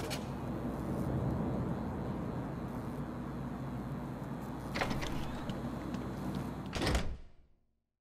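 A door unlocking and sliding open in the video game Batman: Arkham City, over a steady low ambient rumble, with a sharp mechanical clunk midway and a louder slam near the end before the sound cuts to silence.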